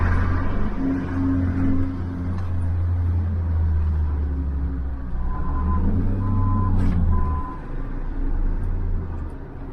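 Truck backing onto a ramp at a recycling site, its reversing alarm beeping in a steady repeated pattern over a loud, low diesel rumble, with a brief air-brake hiss near the end.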